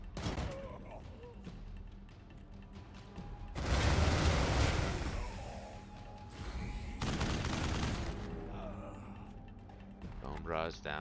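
Gunfire and combat effects in the video game Wasteland 3, dense crackling bursts layered with mechanical noise and background music, with a voice briefly heard near the end.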